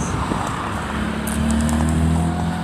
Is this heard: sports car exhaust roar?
yes